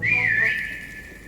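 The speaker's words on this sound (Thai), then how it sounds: "กำลังจะผิวปากแล้ว" A player's whistle taunt in the Prop Hunt hide-and-seek video game: a single sustained, fairly loud high whistle tone, clear and alone without talk.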